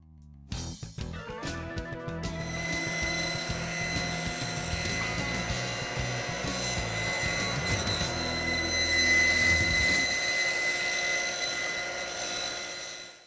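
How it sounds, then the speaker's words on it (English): A milling machine cuts bamboo strips for a hand-made fly rod, spinning up with a few stuttering starts and then holding a steady, loud mechanical whine with a rising pitch, running continuously for over ten seconds. "We run it through that mill."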